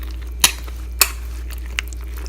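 Spoon clinks against a bowl while fried boondi is mixed into yogurt, two sharp metallic taps followed by a softer third, close and distinct over a low steady hum.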